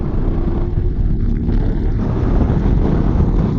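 A crossover motorcycle engine pulls from 60 to 100 as a steady low drone, heavily buffeted by wind noise over the microphone for a few seconds, with no talking.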